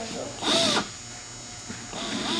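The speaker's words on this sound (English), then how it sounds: "what I'm doing now is starting to countersink" Short bursts of a power drill countersinking screw holes in new aircraft skin in a museum workshop, a whining spin-up near and loud, pausing between holes.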